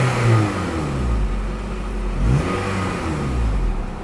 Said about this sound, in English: we'll go ahead and rev it up a little bit